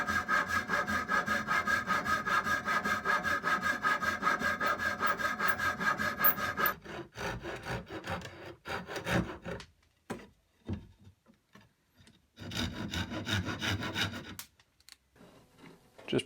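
A hand saw cuts the corners off a wooden stool seat to shape an octagon, first in steady rapid strokes, then in choppier, broken bursts with pauses between, close and loud.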